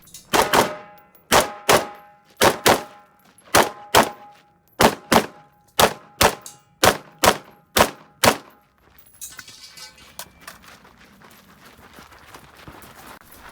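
Rifle shots ringing on steel targets at a shooting match, about a dozen sharp metallic impacts in quick rhythm, fairly loud, fading into faint outdoor background noise.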